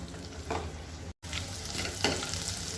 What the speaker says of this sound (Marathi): तर लसूण गोल्डन ब्राऊन होईपर्यंत आपण परतून घेऊया